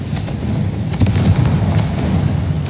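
A Confringo blasting spell goes off in the video game Hogwarts Legacy, a dense, continuous rumbling explosion with a loud, sustained low-end roar and a few sharp bursts on top.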